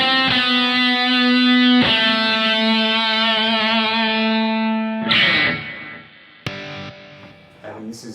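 An electric guitar played through Amplitude amp-modelling software rings out in sustained, distorted chords with rich harmonics, each struck chord decaying before the next, then fading into quieter picked notes.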